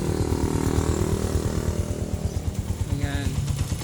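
A motorcycle engine idles after a push rod replacement and tune-up, a loud, close, rhythmic chugging with a rapid pulsing beat, and a voice briefly speaks over it near the end.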